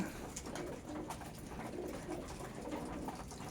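Pigeons coo steadily in a loft, with several birds overlapping in soft, low, rolling calls and a continuous busy murmur throughout.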